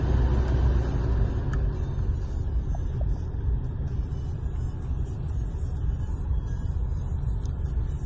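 2012 Skoda Octavia driving on the road, a steady low cabin rumble of engine and tires heard from inside, with no distinct gear-change break standing out.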